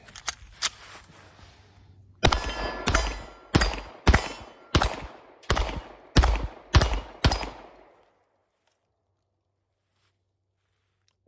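A pistol fitted with a Nitewing SPO320 red dot optic fires at a target. Nine loud, sharp shots come in quick, fairly even succession, each ringing out briefly, after some fainter knocks and before a silent end.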